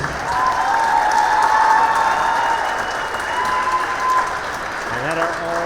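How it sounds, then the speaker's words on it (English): Crowd at a high school girls' basketball game applauding the seniors, a loud sustained clapping from the stands mixed with some cheering, with an announcer's voice over it. "A round of applause for our seniors."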